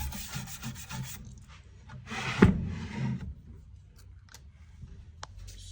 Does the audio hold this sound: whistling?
no